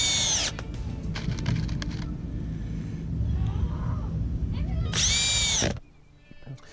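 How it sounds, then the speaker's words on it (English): A power drill with an angled attachment whirs in two short high-pitched bursts a few seconds apart, driving screws into wood, with low rumbling and handling noise in between, fairly close. "Now to screw them in, I have this really nifty tool, which is kind of an angled drill attachment"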